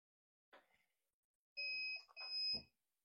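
Two bright electronic beeps from a race starter system signal ready, a short tonal pair of near-identical length, preceded by a soft click and followed by a low thump, in otherwise quiet surroundings.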